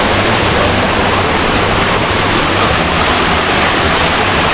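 Back door Falls in Pasacao, Camarines Sur, roars as a loud, constant, close wash of falling water with no breaks.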